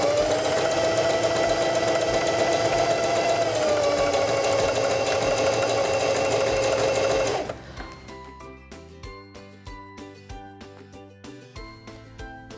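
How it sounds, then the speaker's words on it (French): A Singer 4411 heavy duty sewing machine sews a buttonhole with a steady, loud mechanical whir for several seconds, then drops to a quieter, rhythmic ticking stitch pattern. "Sélectionnez le numéro 4 sur votre cadran sélecteur du point et cousez jusqu'à ce que vous avez atteigné le point d'arrêt en bas"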